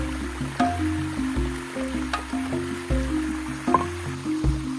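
Plucked chicken being washed in a river, with close splashing, squishing and dripping of water over a steady stream flow, in irregular bursts with no talk.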